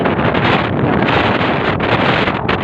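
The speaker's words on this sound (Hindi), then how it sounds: "यहाँ पे बहुत तेज़ हवा आ चुकी है" Strong wind roars and buffets the microphone in a steady, loud rush, with no voices.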